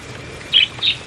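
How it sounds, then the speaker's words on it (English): A zebra finch gives two short, bright calls a fraction of a second apart, close and clear over a quiet background. "The zebra finch, an Australian native bird, is also a popular pet."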